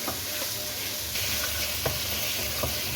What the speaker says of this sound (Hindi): अब कलेजी को इसमें भूनें मसाले के साथ।